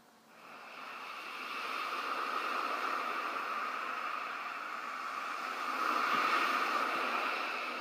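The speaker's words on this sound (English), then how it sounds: "Listen to the sound of the waves." Ocean surf washes against a beach in a soft, continuous rush that builds in the first second, holds steady, then swells a little louder near the end, with no voices over it.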